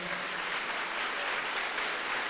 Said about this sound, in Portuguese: Dê o seu melhor aplauso ao Senhor